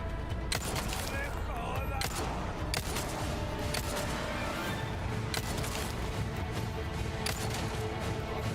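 Gunfire in the Resident Evil 4 Remake video game, sharp repeated shots cracking out over a dense, busy game soundscape that stays loud throughout, with a voice talking at points.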